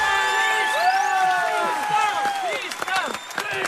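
Studio audience at a Hindi comedy game show cheering, whooping and clapping as a mentor is welcomed on stage, a continuous crowd roar with a rising whoop, loud and close throughout.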